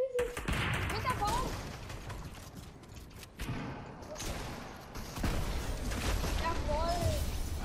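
Sniper gunfire in Fortnite, with shots and mechanical weapon clatter over game ambience while people talk throughout.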